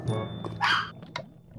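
In-game Minecraft dog barks once or twice in quick succession during a dropper race, a short sharp yelp over faint game background noise.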